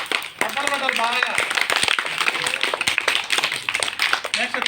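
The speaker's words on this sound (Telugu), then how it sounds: "చప్పట్లు కొట్టాలి బాగా" Schoolchildren in a classroom clap in quick, scattered bursts, partly covered by a voice speaking over them.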